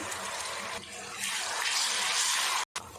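Water pours steadily into a hot pan while ginger, garlic and onion fry for an egg korma, with a loud continuous rush and sizzle that breaks off briefly near the end.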